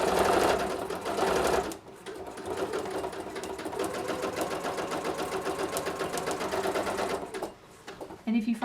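Sewing machine quilting a vest, stitching in a fast steady whir close up, with a brief pause before it starts again and talk over the running machine.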